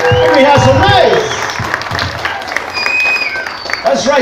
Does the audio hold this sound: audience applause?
yes